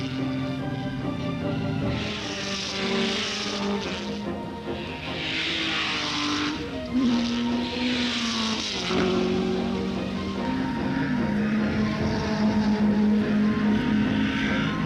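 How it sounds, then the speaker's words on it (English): Loud roar of 1961 New Zealand Grand Prix racing engines, including a Cooper Maserati, rising and falling in pitch as cars pass and change gears, continuous and close, with no talking. "fine driving by Arnold Glass in number 10, who's pushing his Cooper Maserati just as hard as he can"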